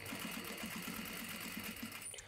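Sewing machine stitching denim, a steady fast mechanical rattle of rhythmic needle strokes running continuously at close range and low level before stopping abruptly near the end.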